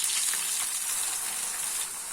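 Potato slices frying in hot oil on a tawa over a medium flame, a steady close sizzle with a bright hiss that holds evenly throughout and eases slightly at the end.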